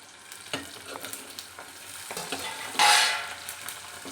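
Cumin, sesame seeds, ginger and bay leaf are dry-roasted in a pan while being stirred, with light crackling, soft scraping and clinks. A louder burst of sizzle comes near the middle, close and with no talking.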